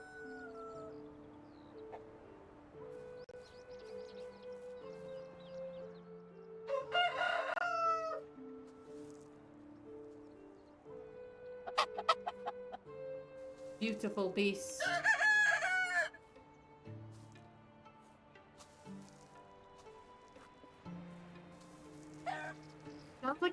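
Medieval Dynasty chickens in a farm yard clucking and crowing in several bursts over soft background music, with a voice speaking briefly.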